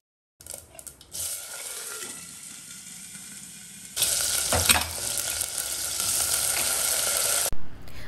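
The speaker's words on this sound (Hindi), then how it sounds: "इसके लिए मैंने 2 चम्मच तेल गर्म करने के लिए रखा है, राई डाली, फिर थोड़ी हींग डाली और फूल गोभी डाल दी।" Cauliflower frying in a pan with two spoons of hot oil, mustard seeds and asafoetida, a close steady sizzle that jumps louder midway as more hits the pan and stays strong with light stirring.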